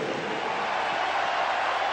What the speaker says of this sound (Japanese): さあ大歓声です、ウェンブリースタジアム